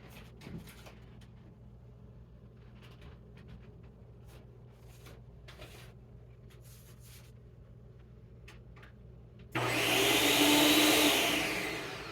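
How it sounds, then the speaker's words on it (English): A blender mixes the sauce for a Mexican pork chop stew, kicking on abruptly after a quiet kitchen stretch with a loud, steady whirring roar for the last few seconds. "we're gonna get this onto a blender"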